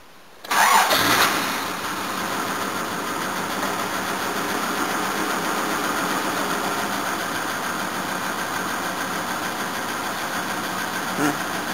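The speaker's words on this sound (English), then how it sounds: "this engine does sound a bit tired" An old 1984 Cressida's tired engine cranks and catches with a loud burst, then settles into a rough, steady idle that runs on continuously.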